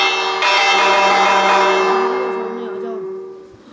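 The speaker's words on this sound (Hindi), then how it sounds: "और तो और हम लोग घंटी बाहर लगाएंगे अपनी" A bell in the Minecraft video game rings once with a bright metallic strike, then hums and slowly fades over a few seconds while a voice briefly speaks.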